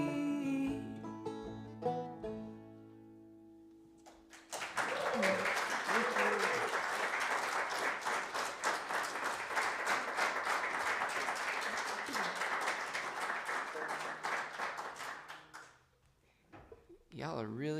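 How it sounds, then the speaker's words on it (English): Concert audience at Society Hall applauding a live set, a dense sustained wash of hand claps that swells after the music fades, holds steady for about ten seconds, then dies away into a voice beginning to speak. "Y'all are really good at clapping."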